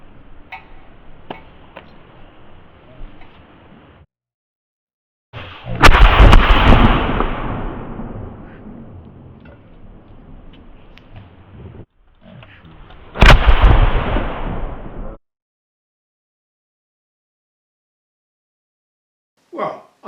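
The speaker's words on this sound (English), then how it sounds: "a smooth bore brown bess, which is even shorter, that's got an even thinner wall and is even louder" Two loud, sharp cracks from a smoothbore Brown Bess musket ring out at a historical reenactment, each followed by a rumbling decay, with quieter ticking noises between them.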